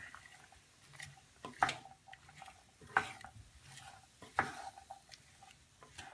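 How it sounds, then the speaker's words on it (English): A spoon stirs a simmering pot on the stove, three distinct scraping strokes spaced evenly over a few seconds. The strokes are quiet and close, with a soft bubbling hiss between them and no talking. "start to stir"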